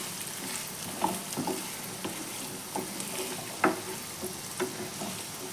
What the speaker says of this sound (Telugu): నేను వంకాయ ముక్కలు అయితే వేసేసాను. ఇవి బాగా ఫ్రై అవ్వాలి.